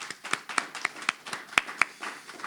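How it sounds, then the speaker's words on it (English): A small audience at a pitch competition clapping for the contestants, a sparse group where individual handclaps stand out in an irregular rhythm, close and moderately loud. "Give our contestants, all the contestants,"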